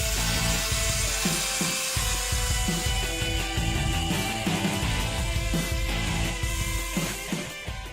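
Straight flush saw cutting through a rim joist on a construction site: a continuous loud buzzing cut with a busy, rhythmic rattle that eases off near the end.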